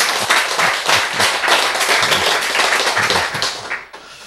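An audience claps in sustained, dense applause, loud and close, with many hands blending into an even roar that fades slightly at the end.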